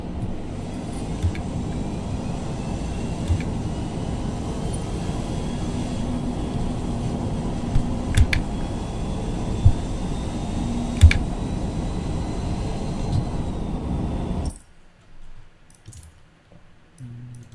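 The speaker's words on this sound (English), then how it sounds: "I don't look at the shift points, I listen to the engine" A continuous car engine drone in an S Class racing video game holds steady with a slowly rising whine, a few sharp clicks on top, then cuts off abruptly, leaving a quiet stretch.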